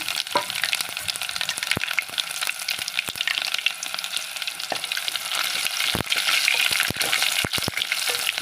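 Onions with fenugreek, cumin and mustard seeds fry in hot oil in a kadai, giving a loud, continuous bright sizzle with scattered pops and crackles throughout.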